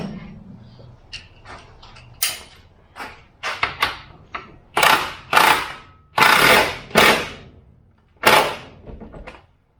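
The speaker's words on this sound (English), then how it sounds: "you didn't see me tighten the bolt" A bolt is tightened on the suspension of a WJ Jeep Grand Cherokee Overland, producing a series of close, sharp metallic ratcheting bursts of varying length, separated by short pauses, with no talking.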